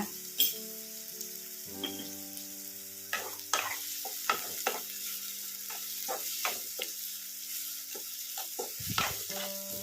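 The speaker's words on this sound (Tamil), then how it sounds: "நல்லா ப்ரௌன் ஆகிற வரைக்கும் நல்லா வெங்காயத்தை நல்லா வணக்கிக்கலாம்" Onions with a little salt sauté in a pan toward browning for a green gram gravy, quietly sizzling while a spatula stirs and taps the pan in irregular, fairly frequent scrapes.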